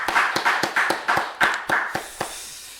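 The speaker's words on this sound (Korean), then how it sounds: "우리 하나님께 영광의 박수 올려드리겠습니다." A church congregation claps together in steady rhythm during a Sunday afternoon worship service, about nine crisp, evenly spaced claps before the sound fades out.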